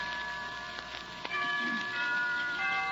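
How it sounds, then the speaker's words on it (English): Chimes ring in a radio drama, several struck tones sustaining and overlapping over a soft steady background, moderately near with no talking. "Why don't we both just sit here and listen to the chimes for a while?"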